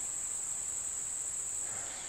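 Outdoors on an overcast day, a cricket chirps in a continuous, high, steady trill that stays even and close throughout.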